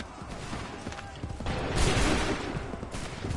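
Musket volley gunfire in Assassin's Creed 3 Remastered, a ragged crackle of massed shots over a dense battlefield din, swelling into a heavier burst midway and again near the end.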